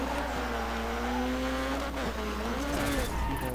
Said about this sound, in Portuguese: E vamos lá, faz um drift,